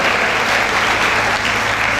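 Loud, dense applause from an audience at a women's education and safety campaign event in Amroha district, Uttar Pradesh, welcoming guests to the stage; continuous close clapping with a faint murmur of crowd beneath.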